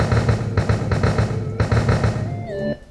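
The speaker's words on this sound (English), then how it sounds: "I want my echo to sound like this." An echo effect from the Unity audio mixer, set up for a mouse-hole area in a game, repeats a sound as a string of rhythmic pulses. A brief rising, whistling tone closes the clip.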